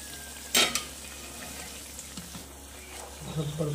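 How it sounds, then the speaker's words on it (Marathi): Hot oil sizzles and spatters as Malvani vade, hand-flattened dough rounds, fry in a pan, with a sharp crackling burst early on and a steady low hiss around it, and a voice briefly audible near the end. "तेल बघ सांडते, तेल उडतं"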